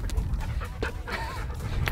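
A dog panting rapidly and close, quick breathy huffs in an uneven rhythm with a faint whimper, no talk.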